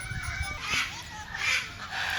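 Parrots at a parrot sanctuary with large aviaries give a couple of harsh, raucous squawking calls, close and loud, over a noisy background.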